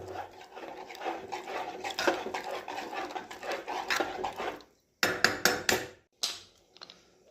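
Spoon stirring washed rice in a pot of boiling water for soyabean chunk khichdi, a busy scraping and clinking run that stops, then returns as a few short separate strokes near the end.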